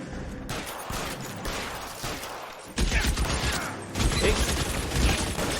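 Gunfire in the crime video game L.A. Noire: a burst of shots breaks in around the three-second mark and rings on to the end, loud and dense, following a short spoken exclamation.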